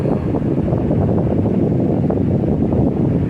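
A Lasko 18-inch remote-control stand fan blows on high speed, making a steady, loud broadband whoosh of rushing air with a slight pulsing rise and fall and no voices.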